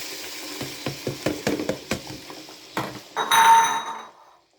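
Marinade hits pork bistek frying in a pan. A run of quick scraping and knocking stirs comes first, then a loud hissing sizzle swells and fades, close up, with no talking.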